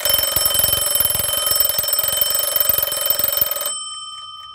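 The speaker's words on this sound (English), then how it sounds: "The alarm is working on it." An antique Seth Thomas mantel shelf alarm clock rings its alarm with a loud, rapid, continuous metallic clatter for nearly four seconds, then stops abruptly, leaving only a faint lingering tone.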